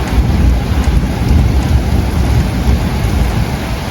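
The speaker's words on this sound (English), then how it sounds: "This was our first actual, well, severe storm here." A severe thunderstorm in New Jersey, with steady heavy rain drumming on surfaces and a deep, continuous rumble of thunder, loud and close throughout with no voices.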